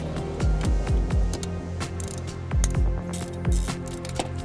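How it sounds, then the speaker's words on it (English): A ratchet clicks in quick repeated bursts while loosening the timing belt guide on a Subaru Impreza engine, close and clear, with short pauses between strokes and no talk. "We're just going to loosen up the timing belt guide."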